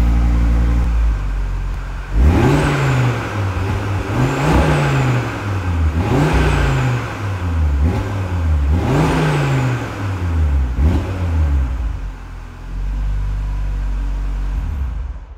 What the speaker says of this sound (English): if you're ready to let her go, just open them back up and you get to hear all of the 5-cylinder sounds